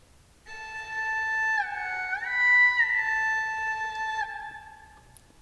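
A pre-recorded musical voice clip run through reverb with no echo: a sustained sung tone that bends up and back, washed in a soft reverberant tail, fairly quiet and alone.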